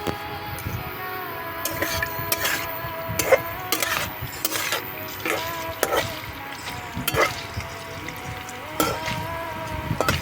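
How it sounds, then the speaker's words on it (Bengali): Paneer fries in a pan with a steady soft sizzle, broken by regular sharp clinks and scrapes of a utensil against the metal. "এখানে পনিরটা ভাজা হচ্ছে"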